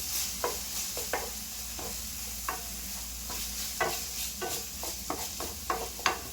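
A spoon scrapes and stirs thick tomato paste in a pan for pasta, with irregular sharp scraping strokes over a soft sizzle, no voices.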